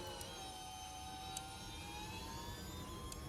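In the F1 Manager 2023 racing game at the Bahrain Grand Prix, a glitched engine sound drones as a steady, jet-like whine with rising tones over a low rumble, faint and continuous.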